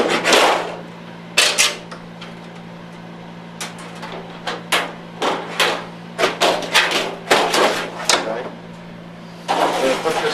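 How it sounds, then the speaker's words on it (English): Tin ceiling filler being cut off a larger piece produces sharp metallic snips and clanks in irregular clusters over a low steady hum, fairly loud and close. "We'll show you real quick how we're going to cut off a piece."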